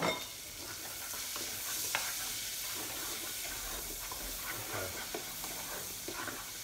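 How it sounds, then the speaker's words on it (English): Diced onions frying in a little drained bacon fat give a steady close sizzle and hiss, with occasional spoon scrapes and stirs scattered through, and no speech. "I've got some diced onions, we'll get in there. We'll get those cooking off."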